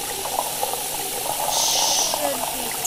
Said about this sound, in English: Boil some water. Well, that fills up.